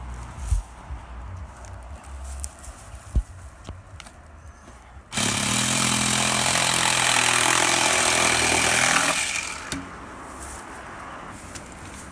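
A power tool cuts through a sewer pipe riser, a loud steady whine that starts suddenly and runs for about four seconds before stopping, with quieter knocks and handling noises before and after.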